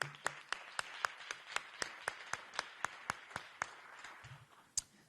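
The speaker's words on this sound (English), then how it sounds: "We should be clapping on that." Sparse, scattered claps from a small audience at a Los Angeles press conference on homeless count results, a dozen or so distinct slaps spaced irregularly, fairly faint.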